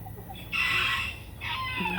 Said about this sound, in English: my motley crew up here. They're my adult chickens